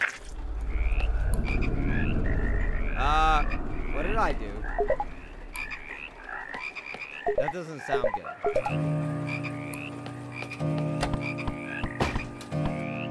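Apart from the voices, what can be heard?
frog croaking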